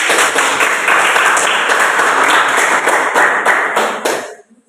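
A classroom of students applauds a student group with a steady burst of clapping for about four seconds, then the sound quickly dies away into silence.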